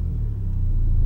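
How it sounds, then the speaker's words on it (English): Engine of a Mini Cooper S on the move, a steady low rumble heard from inside the car, continuous and fairly loud with no voices over it. "On board with Edith driving the Mini."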